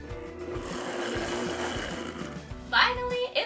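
Blender giving a quick pulse to mix cinnamon into pancake batter, a short whirring burst with brief clatter near the end, with a voice speaking over it.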